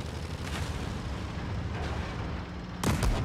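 A tank cannon round strikes a Sheridan light tank in World of Tanks Blitz: a sudden loud, booming impact bursts out near the end, after a steady rumble of engine and battle noise.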